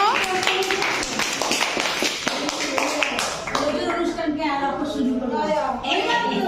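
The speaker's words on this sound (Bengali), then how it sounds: "হাততালি দাও না কেন?" At a primary school Victory Day prize announcement, a small group of children claps in a scattered burst, and voices then talk over the fading applause.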